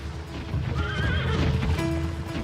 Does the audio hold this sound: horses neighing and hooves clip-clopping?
yes